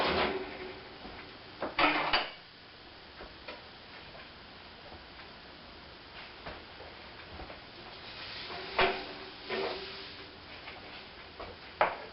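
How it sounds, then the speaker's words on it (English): An oven opened in a home kitchen to take out a pecan pie, with faint clicks and a few soft clunks and rattles of metal, close by and fairly quiet, over steady low room noise. "Now let me get this out of the oven."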